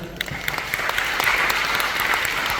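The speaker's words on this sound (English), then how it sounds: "Please give another round of applause for Jada." A loud, steady round of applause from an audience at a speaking event, dense continuous clapping for a speaker, close and sustained throughout.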